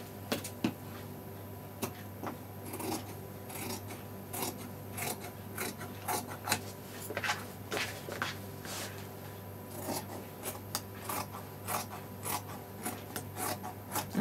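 Scissors snipping through trouser fabric while shaping a cropped pant pattern, with intermittent close blade clicks and soft rasping slides over a steady low background hum.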